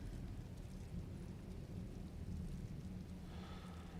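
Timefall rain and thunder in the video game Death Stranding, heard as a faint, steady wash of rainfall with a low rumbling undertone throughout and no speech.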